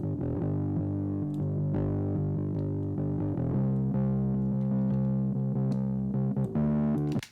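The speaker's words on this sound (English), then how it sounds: "we're going to crush this with the red light distortion" A DI bass guitar line driven hard through a Red Light distortion plugin, heard as sustained, gritty bass notes with buzzing top-end sizzle, playing steadily alone before cutting off abruptly.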